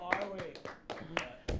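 A few sharp claps ring out at a live show, spaced irregularly among brief bursts of voices and studio chatter, close and fairly loud.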